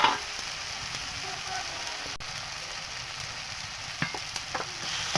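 Tilapia with mustard and ginger frying in a pan, a steady broadband sizzle with occasional soft scrapes and clicks of stirring, close and continuous with no talk.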